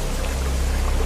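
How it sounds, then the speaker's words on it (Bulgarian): Water flows and gurgles inside a deep enclosed hole in a canyon, a constant rushing churn with a heavy low rumble, close and loud and with no voices. "Това е звукът на вода,"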